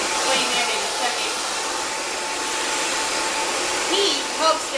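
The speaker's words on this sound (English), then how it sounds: "I'm also going to use the cool shot button on my dryer." A salon hair dryer switched to its cool shot setting while styling a bob, blowing a steady, loud broadband rush of air that holds evenly throughout, close up with no voices.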